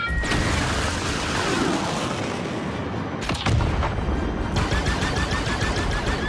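Dense, continuous blaster and cannon fire during a starship dogfight in Star Wars Outlaws, a steady roar of rapid shots and impacts with a sharp burst near the middle, loud and unbroken throughout.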